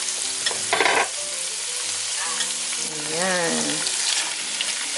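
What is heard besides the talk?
chicken being sautéed in a pan for macaroni soup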